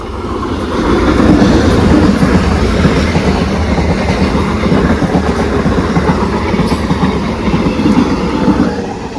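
A train rumbles past close by, its wheels clattering over the rails in a loud, continuous roar for the whole stretch.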